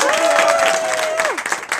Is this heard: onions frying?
no